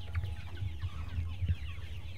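Farm chickens sick with Ranikhet disease cluck softly in a short burst of low, repeated clucks and murmurs, close and fairly quiet, with no voices.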